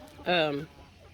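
A hen lets out one drawn-out, strongly pitched squawk, close and loud, inside a crowded chicken coop, with quiet background noise before and after.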